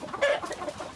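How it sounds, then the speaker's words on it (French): A rooster on a farm gives a short, close, fairly loud cluck, a single brief call with no voices. "On a coq d'espèce."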